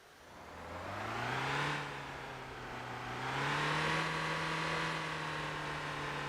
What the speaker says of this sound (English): An engine that makes a lot more noise than what it actually puts out